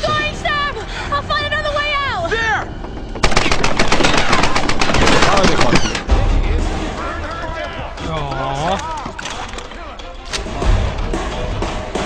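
Gunfire from the Tomb Raider reboot video game, with rapid automatic bursts and single shots. The shooting is loud and busy, mixed with game music and sound effects, and people talk over it in places.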